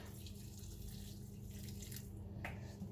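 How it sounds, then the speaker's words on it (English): Warm water pours from a tap into a dish holding an oxo cube, a soft, steady, quiet trickle and splash that runs continuously, with a small clink near the end. "I'm just going to put some warm water in it"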